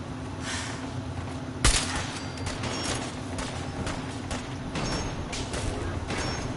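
Enemy turret gunfire in Fallout 4, a dense sustained rattle of shots with one sharp loud burst early on, continuing steadily throughout with no talk.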